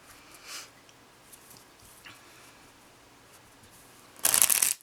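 Tarot cards shuffled in a quick, close riffle that bursts out loudly for about half a second near the end, after a mostly quiet stretch with faint room noise.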